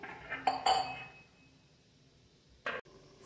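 A lid set onto a pot of boiled chicken curry gives a couple of close glassy clinks near the start, then quiet, and one more brief clank toward the end.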